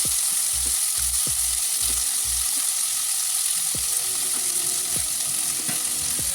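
Sliced onion with crushed ginger and garlic frying in a pan, giving a constant close sizzle with a quick run of spatula knocks early on and scattered stirring scrapes afterward, and no one speaking.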